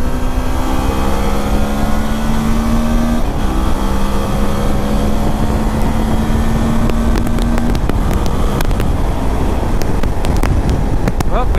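Suzuki V-Strom motorcycle accelerating to 100, engine note rising in pitch through the gears with a brief shift pause, under loud, steady wind rush.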